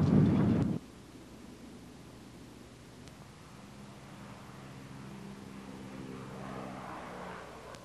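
Propeller airplane flying overhead at an air show during a veterans reunion, a steady low drone that swells slightly toward the end after a brief loud burst at the start.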